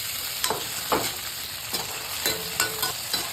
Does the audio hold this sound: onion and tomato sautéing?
yes